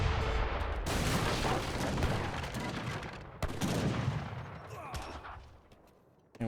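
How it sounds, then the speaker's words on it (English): Mortars and gunfire in an Age of Empires III: Definitive Edition battle make dense, rolling booms and blasts over several seconds, and a commentator talks over the action. "Here comes the mortars, finally."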